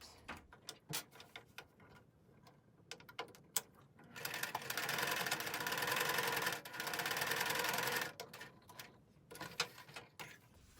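A sewing machine stitches the nose dart of a fabric face mask in two short continuous bursts, surrounded by scattered clicks and handling knocks from the fabric and machine.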